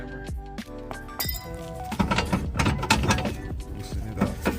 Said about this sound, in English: You want to tap it with a hammer.